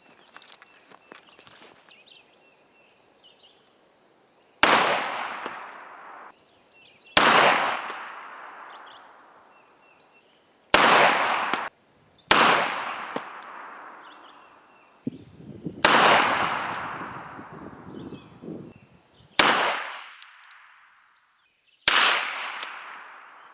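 Eight loud, sharp reports from a Remington 1911 R1 pistol firing .45 ACP rounds at targets, each followed by a long decaying echo, spaced a few seconds apart with quiet gaps between and no talking.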